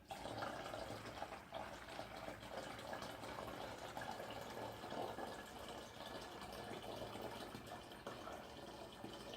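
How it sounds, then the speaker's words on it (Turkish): Water poured steadily into a container while homemade vodka is being mixed, a continuous close splashing gush that holds at an even level for the whole stretch with no talk. "Suyumuzu ilave ediyoruz."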